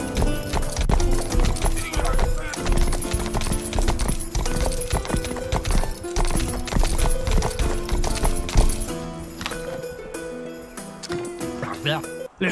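Horse hooves clip-clop in the medieval open-world game Rustler, a steady trotting rhythm sitting under busy game music and effects, with a voice talking over it.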